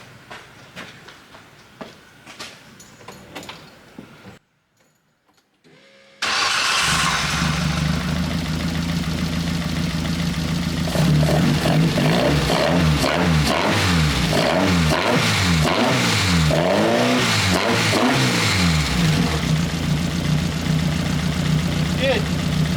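Birkin S3 engine, injectors just refitted while chasing a misfire, cranks and catches, then settles into a steady loud idle with rising revs and harmonic sweeps; quieter clicks and handling noises come before the start.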